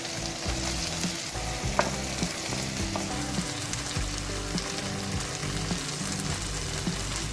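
Carrots stir-fried in a hot pan for chicken chow mein, a dense continuous sizzle with rhythmic scraping and tossing of the spatula, close and steady throughout, no voices.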